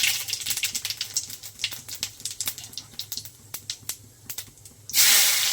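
Cumin and mustard seeds crackling in hot oil, a rapid irregular run of sharp pops and spits over a soft sizzle, close and clear, ending in a sudden loud burst of hissing steam.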